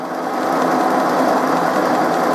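Steady mechanical whir of a planetary gearbox turning inside the head of a cutting machine used on a T25 tractor cylinder head, a continuous even hum with no talk.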